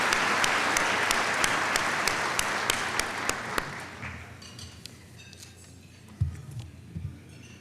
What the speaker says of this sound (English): Join me in a round of applause thanking these individuals for dedication and support of the Regional Chamber.